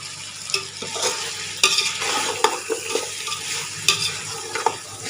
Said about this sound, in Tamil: நான் எந்த அளவுக்கு வதக்குறேனோ அதை பார்த்துக்குங்க